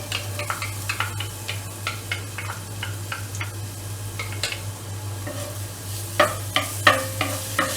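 Chopped garlic sautéing in hot oil in a pan, a soft sizzle under repeated sharp spatula taps and scrapes against the pan, coming in irregular clusters with louder knocks near the end.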